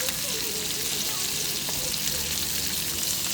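Butter with oregano sizzles steadily in a pan at home, a dense, even crackle that stays loud and close throughout with no pauses.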